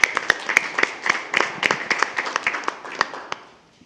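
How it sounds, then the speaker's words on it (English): Audience at a school district board meeting claps for retiring employees, a moderate room of individual hands with distinct sharp claps in an uneven rhythm, fading out toward the end. "Let's give them a round of applause."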